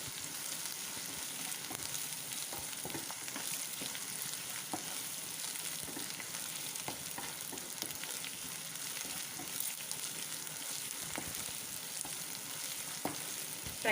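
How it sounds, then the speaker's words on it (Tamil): Capsicum and vegetables frying in a pan for corn fried rice, giving a continuous soft sizzle under frequent stirring scrapes and taps from a spatula, with no talking. "ஒரு நிமிஷம் இந்த மாதிரி நல்லா வதக்கி விட்டுருங்க."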